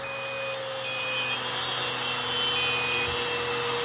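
An electric angle grinder runs steadily off a portable battery generator, a continuous loud whine with a high tone and mechanical hum at an even level throughout, close by and without speech.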